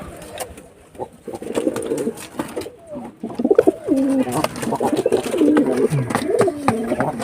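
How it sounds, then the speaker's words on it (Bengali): Pigeons at a nesting spot with eggs coo repeatedly in soft, throaty, rolling calls, close by, with voices mixed in. "ওখানে একটা পায়রা বসে আছে ডিম দিয়েছে"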